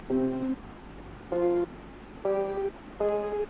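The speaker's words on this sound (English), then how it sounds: "In this plug, this is a guitar loop and a vocal chop." Four short bursts of a plucked guitar loop with a chopped vocal, dry with no effects, each phrase separated by brief gaps of silence in a bass house production.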